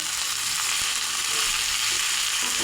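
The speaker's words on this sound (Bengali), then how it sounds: "এবার এই সব কটা মশলা আমি ভেজে নেব।" Spices fry in a pan with peanuts and white sesame, giving a loud, dense, unbroken sizzle that holds steady and close throughout.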